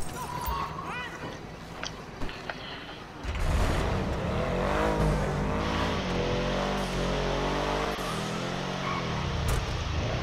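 Car driving in Grand Theft Auto V during a police chase, a steady loud engine drone rising after a few seconds and holding to the end, with someone talking over it.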